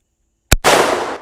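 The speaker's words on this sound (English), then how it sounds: "I'm shooting some 240 grain hollow points" A single sharp gunshot from a Henry lever-action .44 Magnum rifle firing 240-grain hollow points at a range, a loud close crack followed by a broad decaying echo, with no talking.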